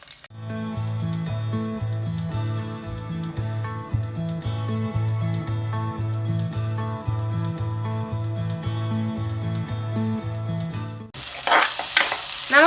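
Salted raw mango pieces and curry leaves sauté for a Thrissur-style mango curry, a soft frying sizzle mostly beneath rhythmic music, then a brief louder burst of sizzling and stirring near the end.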